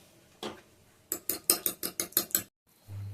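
A utensil clinks rapidly against a bowl, stirring an egg and mayonnaise mixture, in a quick run of about eight strokes after a single knock, then a low hum starts.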